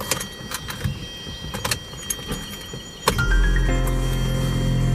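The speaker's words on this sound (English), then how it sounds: "So let me turn the car on." Car switched on after a tablet radio install: scattered clicks and key jangles first, then a sudden electrical whir and steady hum as the ignition comes on, with a faint rising tone.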